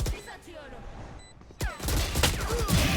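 Gunfire in the video game Valorant: a quiet stretch of game ambience, then a sudden burst of rapid shots followed by scattered further shots and clatter, moderately loud.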